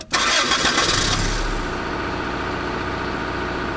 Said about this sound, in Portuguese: O motorista deu partida no motor e arrancou com o ônibus acelerando forte.